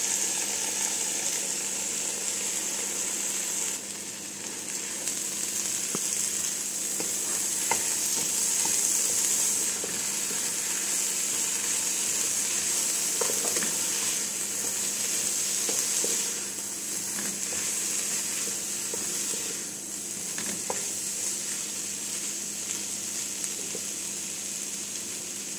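Mung beans and paprika frying in a pan, giving a steady, even sizzle that holds at a constant level throughout with no one talking.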